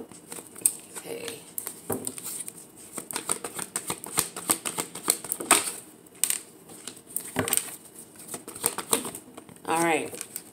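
Tarot cards being shuffled and drawn by hand, a quiet run of papery flicks, slaps and rustles in irregular bursts, close up, with a voice talking at moments.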